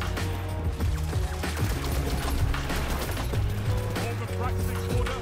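The Seventh Seraph Carbine auto rifle fires in a video game, a loud, continuous rapid stream of shots that runs the whole time, with a voice talking over the gunfire.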